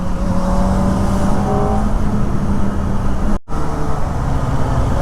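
A Kawasaki Ninja ZX-4R rides through city traffic in High-Tech City, Hyderabad, its engine droning steadily up close under heavy wind rush, with a short dropout partway through.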